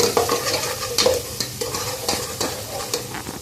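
Chopped garlic sizzles in hot oil while a utensil scrapes and stirs the pan in quick repeated strokes, close and clear with no voices.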